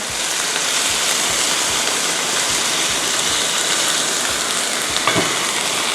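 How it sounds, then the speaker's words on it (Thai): Loud, continuous sizzling and bubbling of pork ribs in a frying pan with water added, with faint low thumps underneath. "แล้วก็กระจายซี่โครงหมูให้ทั่วกระทะนะคะ"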